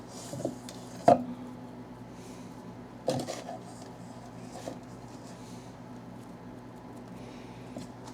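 Biscuit dough for homemade venison steak biscuits being mixed by hand in a bowl: a few sparse knocks and soft scrapes against the bowl, quiet and close, with no talking.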